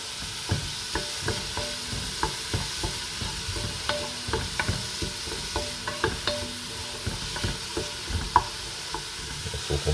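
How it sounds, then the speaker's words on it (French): Chopped onions sweat gently in a pan for a pistou soup, a steady soft sizzle broken by repeated scraping stirs of a utensil against the pan, close and continuous without talk. "là je viens de mettre les oignons, donc on va les faire suer"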